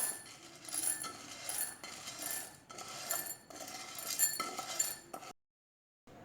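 Dry roasted chana dal rattles and clinks as it is scraped and poured from a pan into a bowl, a continuous gritty patter that stops abruptly.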